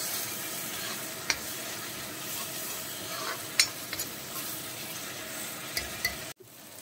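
Tomato paste sautés in oil for a North Indian fish curry, a constant close sizzle with scattered clicks and scrapes of stirring, cutting off abruptly at the end.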